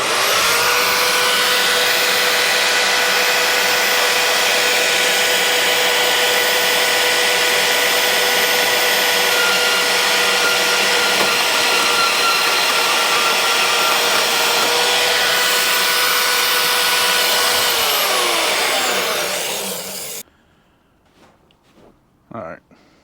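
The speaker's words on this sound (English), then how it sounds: "I'm just going to use my little bandsaw here and cut it." A small bandsaw cutting a power steering part for a Hemi swap, a loud continuous whining buzz that runs steadily for about twenty seconds before stopping abruptly, followed by faint handling noises.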